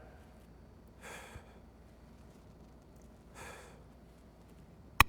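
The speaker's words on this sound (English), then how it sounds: "Inhale, knee to chest, exhale back." Two sharp, breathy exhalations from a person doing wall handstand mountain climbers, evenly spaced and close, with a quiet room background and a brief click at the end.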